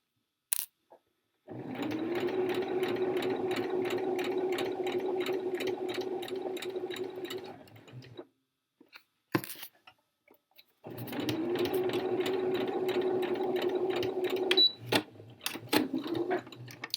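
A sewing machine stitches fabric for a boxy tee in two long, steady runs of rapid mechanical whirring and ticking, with a short pause and a few clicks between them, close and clear, with no voices.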